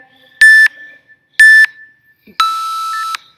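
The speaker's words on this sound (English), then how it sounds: "ignore the first 3 beeps you're gonna hear" Three electronic workout timer beeps: two short, evenly spaced tones followed by a longer, lower-pitched final beep, loud and close with silence between.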